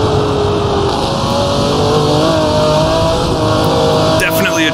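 A race car on Fuji Speedway in the Assetto Corsa racing game, its engine note dropping and rising as it downshifts to fourth gear, with a steady loud drone and a talking voice over it throughout.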